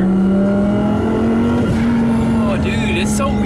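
A twin-turbo Audi R8 accelerating on a road, heard as a loud, steady engine drone from close by that rises slightly in pitch as it builds boost.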